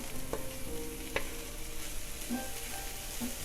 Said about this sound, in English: adding in our bell pepper, jalapeno pepper. And this we only need a minute or so to let all of this saute